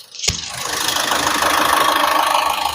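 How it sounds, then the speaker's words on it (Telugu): A 2019 Ford EcoSport Ambient engine idling with the bonnet open, a close, steady mid-pitched hum and rumble that starts after a brief knock and holds evenly with no talking. "చాలా స్మూత్ అయితే ఉంది ఇంజన్."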